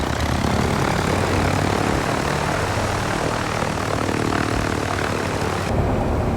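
A Just Flight DR4 propeller plane in X-Plane 11 drones loudly and continuously as power is added for a touch-and-go over mountains, a steady buzzing engine roar with no voices.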